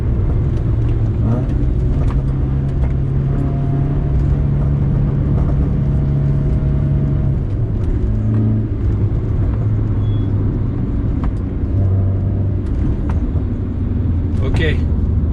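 A car running fast down a long hill while brake pads are tested, a loud continuous engine and road rumble with shifting tones, under someone talking throughout.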